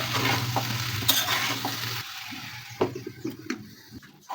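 Onion stalks and small puti fish are stir-fried in a pan, sizzling up close while a utensil scrapes and turns the mix in short bursts, then the sizzle dies down.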